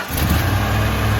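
A 1995 Ford F250 pickup with a 460 V8 rumbles steadily at idle, a low continuous drone close by with no voices.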